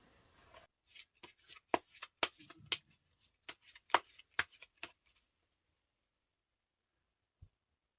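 Tarot cards are shuffled for a love reading in a run of quick, crisp riffles and taps spread over about four seconds. A single soft knock follows after a pause of silence.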